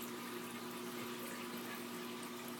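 Water flushing through an aquarium siphon line flows continuously, a constant watery hiss with a faint low hum beneath it, close by and unbroken throughout.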